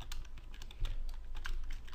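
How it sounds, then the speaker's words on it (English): Rapid, uneven keystrokes on a computer keyboard fill two seconds, fairly close and steady, with no voices. "Typing is bad today."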